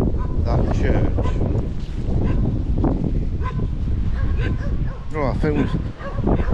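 Several dogs bark and yip outdoors in open countryside. The barks come in scattered bursts over wind noise, and people talk throughout.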